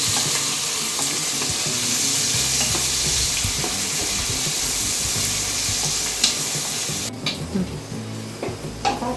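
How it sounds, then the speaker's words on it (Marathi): Chopped onion sautéing in a pan for shev bhaji, a steady broadband sizzle with occasional stirring scrapes throughout, loud and close, easing toward the end. "आणि कांदा टाकायचा."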